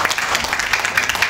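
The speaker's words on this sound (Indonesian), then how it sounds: "Tepuk tangan dulu tuh Pak Tambunan." Brief scattered clapping from a small audience at a product presentation greets Pak Tambunan, a short burst of hand claps lasting about a second.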